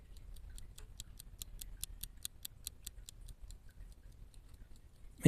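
A Roskopf Patent pocket watch from around 1876-1886, held close, ticks in a fast, even, crisp rhythm against quiet low background hum, ending with a sudden bump.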